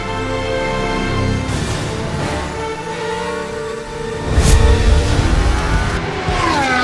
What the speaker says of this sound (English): After the red flag, we can go racing again, and Lando Norris is wasting no time whatsoe